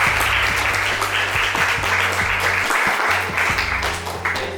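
A classroom audience applauds after a group presentation, giving dense, steady clapping from many hands that stays loud throughout and fades slightly at the end.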